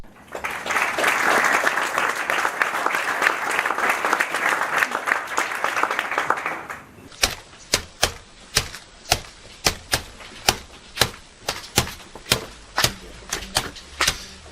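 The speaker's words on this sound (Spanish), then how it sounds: "Aplaudimos." Audience applause: a loud dense burst of crowd clapping that lasts several seconds, then thins into a slow, rhythmic sequence of single sharp claps in unison, strong and evenly spaced.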